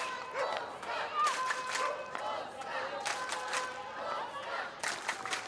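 Crowd noise at a women's field hockey match between Poland and Italy, a steady roar of cheering and shouting spectators with bursts of clapping and calls rising and falling throughout.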